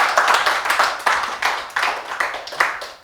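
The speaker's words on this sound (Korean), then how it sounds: "박수 한번 쳐볼까요?" An audience at a humanities lecture claps in short, rhythmic bursts, with repeated sharp onsets and no talk over it.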